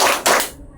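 Hand clapping in a classroom group-guidance game: a couple of loud, close claps in quick succession, each with a short room echo, then quiet.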